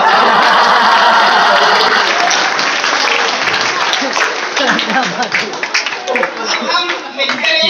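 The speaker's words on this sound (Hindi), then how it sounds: "लेकिन कमाल की बात ताली जरूर बजाई" Audience applause at a comedy show: a dense, loud wash of clapping that gradually thins and gives way to a voice speaking over the fading claps.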